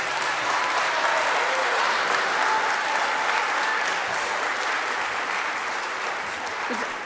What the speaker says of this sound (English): we have one more round of applause for the cadet group